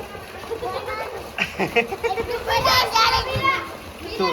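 Children splash and play in bathing water, the sloshing and splatter mixing with their excited voices and an adult talking nearby throughout.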